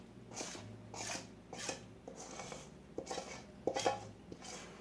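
Batter scraped from a bowl into a bread pan greased with cooking spray: repeated soft scraping strokes with light clinks of a utensil on the dish, close and quiet, in an irregular rhythm with no talk.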